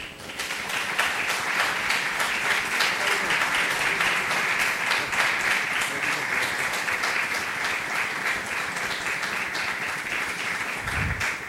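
Sustained, full audience applause honoring a former Peruvian football striker at a panel event during a football film festival, even and fairly loud from start to finish.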